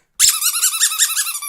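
A squeaky pig toy squeaks in a rapid wobbling series after a brief thump, loud and close, while a dog growls low underneath; no talking.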